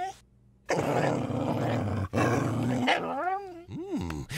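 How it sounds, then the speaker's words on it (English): A cartoon dog growls and roars in a burst of deep, rough snarling, broken by a short gap, then rising and falling whining yelps at the end. "I have made a clone of my adorable dog"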